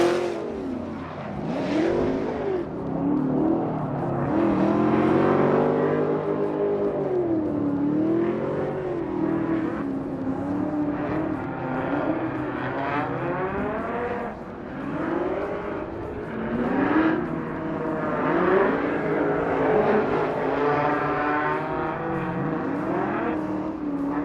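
Drift cars at a Formula Drift Irwindale Top 32 event, including a Nissan 370Z, roar with revving engines and screeching, smoking tires in a loud, continuous wall of sound with no talk.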